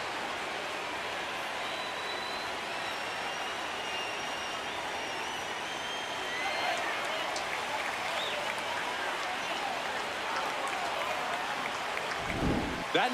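A large stadium crowd in Detroit in MLB The Show, a steady wash of murmur and roar that hangs in the background at an even level and swells slightly partway through, with no clear individual voices.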